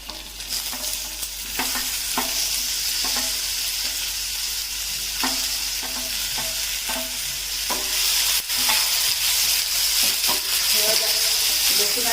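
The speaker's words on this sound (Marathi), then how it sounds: "कांदा आपला भाजून झालेला आहे टॅमॅटो घालायचा आहे" Tomato goes into a pan of fried onion for restaurant-style veg kolhapuri, filling the clip with a loud, continuous close-up sizzle broken by repeated spoon scrapes and stirring clicks.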